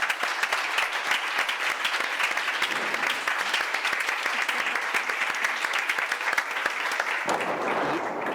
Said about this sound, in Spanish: nuestros panelistas se merecen un fuerte aplauso